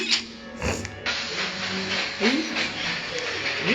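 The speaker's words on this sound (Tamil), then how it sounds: "ட்ரெயின் வந்துருக்குடி" A train pulling in within a prison-escape video game, a steady hissing steam rumble with a few clanks and a squeal, fairly loud, with voices talking over it.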